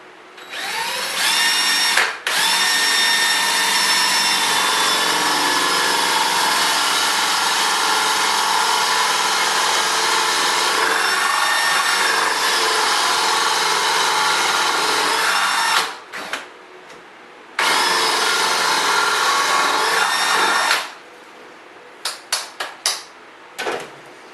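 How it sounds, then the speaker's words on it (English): Power drill boring a hole for a model railway fiddle yard, a loud sustained whining run with a short pause, then another burst and several brief stuttering pulses as it stops, no speech. "I'll drill down to about the end here."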